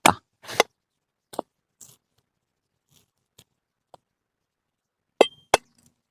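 Sharp isolated chopping strikes against wood, a few hard hits spaced irregularly with quiet gaps between, close up.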